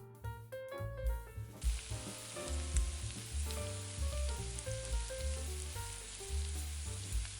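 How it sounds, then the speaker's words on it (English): Chopped onions sizzle in extra virgin olive oil in a hot pan, a continuous soft frying hiss mixed under louder background music, with no talking. "We're going to lower the heat to low-medium and continue to sauté the onions until soft, with a hint of caramelization."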